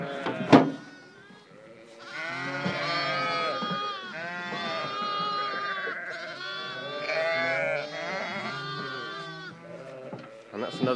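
Charollais lambs newly turned out to a field bleat near and loud, many overlapping cries in a continuous chorus, after a sharp knock at the start.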